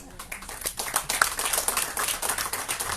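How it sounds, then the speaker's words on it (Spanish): A panel audience at a fiscal policy conference in Latin America gives brief, scattered applause, fairly faint, with separate claps audible in an uneven rhythm. "Un aplauso para"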